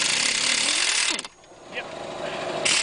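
An impact wrench working on a Volkswagen Jetta's suspension: a loud, steady rattling hammer runs for about a second and cuts off, then a short burst kicks in again at the end, close and harsh.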